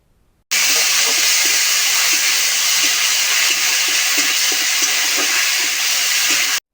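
Ground spice paste, stone-ground on a grinding slab, hits hot oil for a Bengali pointed gourd and prawn dish, giving a loud, steady, steam-like hiss that runs unbroken for several seconds with no talking.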